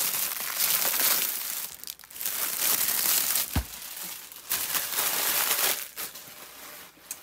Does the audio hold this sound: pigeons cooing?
no